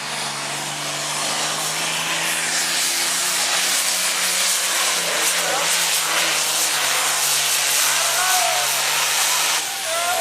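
Truck tractor named Black Power roaring at full throttle during an NTPA semi pull at the North Iowa Nationals in Rockwell, a loud, sustained engine drone that holds steady for the whole stretch with faint voices underneath.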